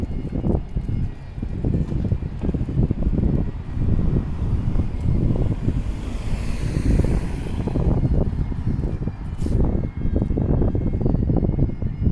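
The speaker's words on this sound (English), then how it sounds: "it's getting windy right here" Wind buffets the microphone in rumbling, gusty bursts, loud and continuous, with a faint mechanical drone in the background.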